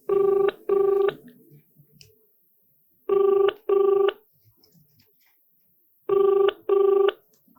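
A telephone rings unanswered in three evenly spaced double-ring bursts, loud and close, with short quiet gaps between them and no talk.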